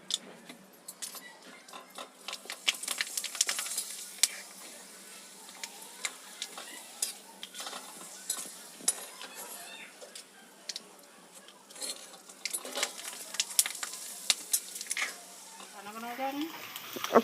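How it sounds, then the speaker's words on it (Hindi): Papad made from maida roasts in a pan at home, with dense crackling, clicking and scraping that goes on throughout over a faint hiss. A voice is heard briefly near the end. "तो अभी यहाँ पर मम्मी आप लोग को भून के भी दिखाएंगे।"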